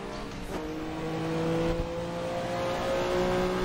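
Race car engines droning steadily along the Mulsanne Straight in Assetto Corsa, 1985 Le Mans Group C era cars including a BMW M1, a continuous loud engine tone with a rising pitch.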